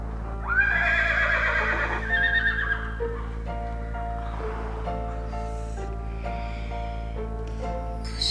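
A horse neighs loudly, a long shrill whinny followed by a second call, then quieter snorts and shifting sounds over a steady low hum.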